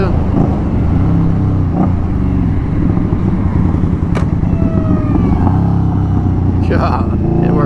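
A 2019 custom Indian Scout Bobber rumbles loudly and continuously on the road, its engine droning up close under heavy wind rush, with slight shifts in pitch as it slows under engine braking.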